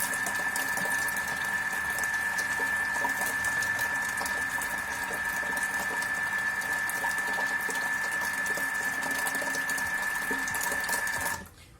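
A Thermomix runs at speed 3, mixing caramel (kajmak), giving a steady motor whine with a constant tone and a soft churning wash for nearly twelve seconds, close and even, then cutting off at the end.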